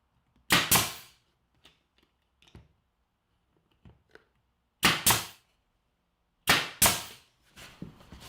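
A hammer drives nails into the top of a wooden jig, three loud sharp double strikes spaced seconds apart, with faint light taps and knocks between them and no talking.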